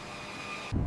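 B-52 bombers taxiing in line, a steady loud roar and whine of jet engines with a faint high tone, ending in a sudden low rumble.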